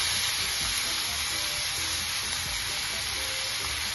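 Steady, loud sizzling fills a pan as cooked raw jackfruit is added to a sauté, a continuous frying hiss with soft stirring scrapes beneath it and no talking.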